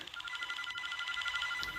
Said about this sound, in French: Oh, mon téléphone sonne.